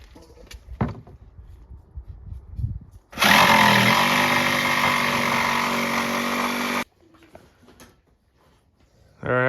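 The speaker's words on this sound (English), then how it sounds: "Now we'll cut it out with the jigsaw." A jigsaw cuts a part out for a 1967 Moto-Ski Capri snowmobile seat, a loud steady buzzing run of about four seconds that starts and stops abruptly, with scattered handling noises and faint talk before and after.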